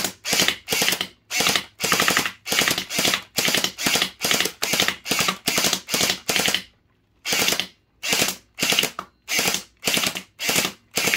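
An HT Mini M4 Raptor gel blaster with a drum magazine fires in short, rapid full-auto bursts, loud and close. The bursts come back to back with a brief pause midway.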